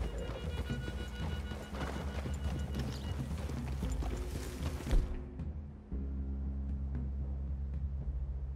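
Horse hooves in the Western video game Red Dead Redemption 2, a dense clip-clop of several horses moving over ground, close and busy, mixed with rumbling game ambience and a short burst of louder noise midway.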